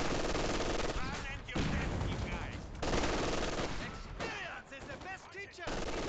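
Bursts of machine gun fire rattle through a World War II strategy video game, with dense repeated volleys and brief lulls across the stretch.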